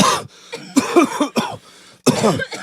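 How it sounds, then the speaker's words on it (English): Several coughs in a row, a brief hacking burst, then a pause and one more loud cough close to the microphone. "People cough."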